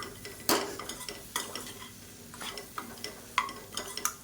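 Okra being sautéed with a gram flour masala, quiet crackling sizzle broken by sharp spoon scrapes and clinks against the pan, several distinct stirring strokes close by.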